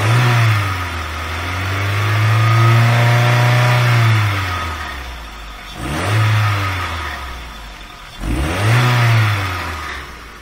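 A VW A3 2.0L engine with a restricted exhaust revs up and holds high without picking up further, then drops and surges twice more in short bursts, loud and close with no talking.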